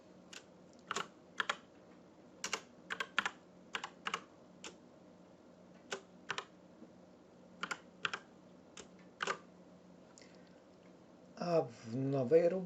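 Keys on a computer keyboard clack in scattered single strokes and short bursts while a one-time password is typed in to activate an Office 365 account, close and fairly quiet, with a brief rustling noise at the end.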